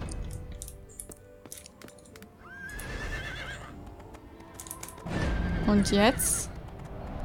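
Horse riding in the online fantasy game Riders of Icarus, with a horse neighing and whinnying loudly near the end over steady hoof clip-clop and game ambience, while someone speaks briefly.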